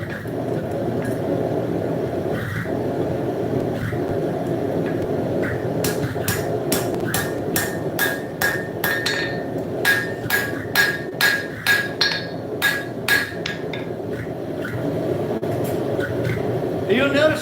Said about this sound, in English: This also gives you an opportunity to practice things like hammer control.